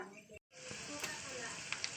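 An egg fries in a hot pan: after a brief silent gap, a steady close hiss and sizzle sets in, with a couple of small pops, at fairly low volume.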